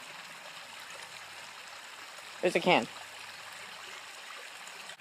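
A creek flows with a constant soft rushing and trickling wash, steady and moderately near, while a person briefly speaks over it.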